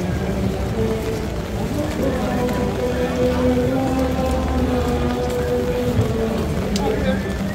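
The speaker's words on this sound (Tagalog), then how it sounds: "tuloy-tuloy pa rin yung ulan." Persistent rain pouring in London on the day of King Charles III's coronation, a steady broadband hiss with scattered drops while people talk throughout.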